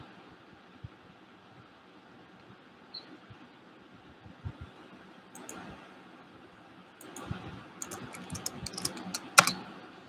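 Keys clatter on a computer keyboard as a reply is typed, with soft, steady tapping that grows busier and louder toward the end, alone with no talk.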